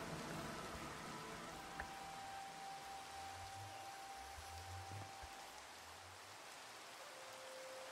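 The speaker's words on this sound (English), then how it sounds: "Oh, it's raining." Steady rain hiss in a crafting video game, a broad even wash of falling drops with a faint tonal hum running underneath, no voices.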